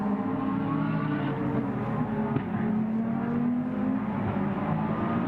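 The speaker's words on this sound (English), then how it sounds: "He's still being given a hard time by Coach McKenzie as they make the run towards the Mistral once again." GT race cars of the Blancpain GT Sports Club at the Paul Ricard circuit, a sustained engine roar with a slowly shifting pitch as the cars head down the straight, steady and fairly close, with no talk over it.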